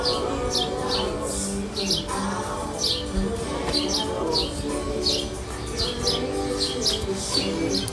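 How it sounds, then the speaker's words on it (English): Many birds chirp and tweet in a busy, overlapping chorus, bright repeated calls over a steady low outdoor hum. "These birds always loud. I think the birds louder in the morning."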